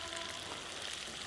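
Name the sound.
onion frying with chicken in pan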